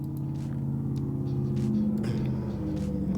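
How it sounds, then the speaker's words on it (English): A car engine rumbles low and steady close by, a throaty exhaust drone with slight rises as it passes. "there's a loud car"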